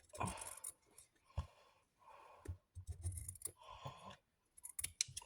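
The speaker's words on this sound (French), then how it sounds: "Prenez des ciseaux à tissu, ça coupe nettement mieux pour tout ça." Fabric scissors cut through paper while a mini scrapbook album is being assembled, giving several short snipping and rustling bursts separated by pauses, close but quiet.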